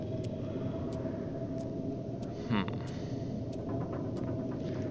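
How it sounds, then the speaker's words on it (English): A steady, heavy roar of storm wind in the video game The Long Dark, heard from indoors, holds throughout, with a brief muffled thump in the middle and faint periodic ticks. "As you can hear the wind"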